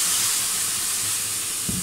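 Milk poured into hot semolina in a pan while making semolina kheer gives a close, steady hiss and sizzle. A soft thump comes near the end.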